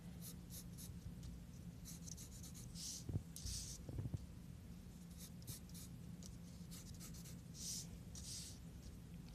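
Pen strokes on paper as triangles are drawn by hand, one-handed. Short scratchy strokes repeat in an irregular rhythm with small gaps between them. The sound is quiet and close over a low steady hum.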